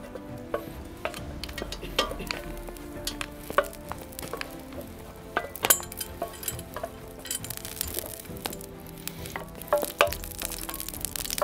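Lard melting in a frying pan sizzles continuously, with sharp crackles and pops scattered throughout and a few light clinks, close and alone without voices.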